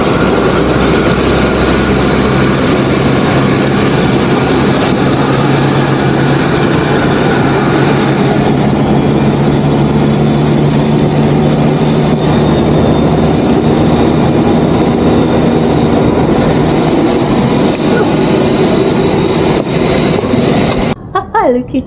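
A Lufthansa airliner at Frankfurt takes off with a loud, sustained engine roar heard from inside the cabin, steady throughout until a brief cut near the end.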